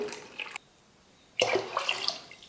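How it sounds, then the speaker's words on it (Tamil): Water is poured from a glass into a pot of rice and lentils for Tamil ven pongal, two short splashing pours separated by a brief pause, close and clear with no talking. "இப்போது எக்ஸ்ட்ரா 1 கிளாஸ் மட்டும் தண்ணி சேர்த்துக்க போகிறேன்."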